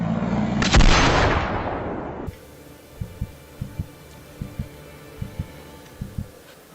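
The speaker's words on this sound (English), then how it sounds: "Boom! The gunshot rang out." A single loud, booming gunshot with a rumbling tail that cuts off abruptly, followed by soft, paired low thumps like a slow heartbeat.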